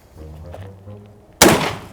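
A single loud shotgun blast cracks out close by after a quiet moment with faint low background noise, followed by a short decaying tail.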